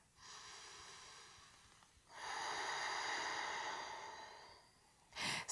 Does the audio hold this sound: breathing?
yes